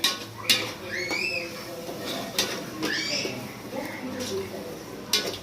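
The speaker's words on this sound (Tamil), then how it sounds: "தயிரை நல்லா கிளறி விடுறேன்" Spoon scraping and clinking against a cooking pot while thick yogurt is stirred, with a person talking throughout.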